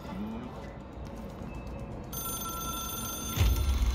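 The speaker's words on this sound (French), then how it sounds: "Le téléphone sonne." A telephone rings in a psychological video game, a steady bright electronic tone sounding close over a low ambient hum, with a heavier thump near the end.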